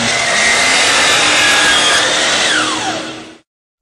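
A DEWALT miter saw slices through crown molding laid flat, one loud continuous cut of about three seconds with a steady whine and rasp that stops abruptly, then silence.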